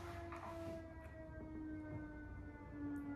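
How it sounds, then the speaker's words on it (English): An ambulance siren sounds downtown as a steady, sustained wail at a middle distance, holding a long tone under constant city background noise with no voices over it. "excuse the ambulance sounds"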